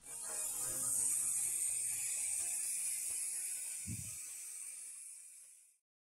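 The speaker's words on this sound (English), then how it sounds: "One full turn of the primary pulley results in nearly two rotations of the secondary pulley." A CVT transmission's primary pulley is turned by hand and drives the secondary pulley, producing a steady close mechanical whir with a faint ratcheting texture and a brief low thump, then stopping abruptly.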